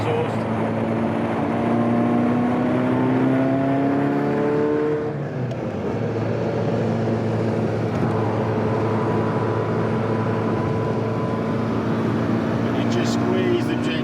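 A Ferrari 288 GTO engine breathing through an Ansa exhaust, a steady droning growl with rising pitch sweeps as it accelerates, heard from inside the car with a voice talking over it.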